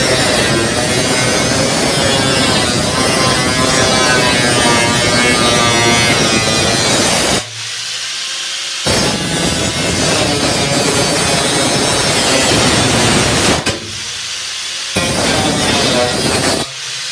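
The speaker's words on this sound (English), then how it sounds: "The first pass kind of marked where I want to grind, and then I'll make about 3 more passes before it breaks through." Angle grinder cutting through a van's metal wall for a bunk window, a loud, steady high-pitched whine that stops briefly twice, then starts again for further passes.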